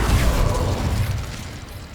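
The Incendio fire spell in Hogwarts Legacy goes off with a heavy, close whoosh and boom that rolls out and slowly dies away over two seconds.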